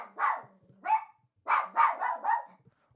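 A dog barks in two bursts, two sharp barks, a pause, then three quick barks in a row, fairly close and loud in an otherwise quiet indoor room.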